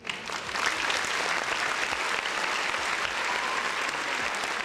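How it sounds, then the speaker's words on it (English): Steady, dense applause from a crowd, loud and continuous throughout with no pauses. "Round of applause."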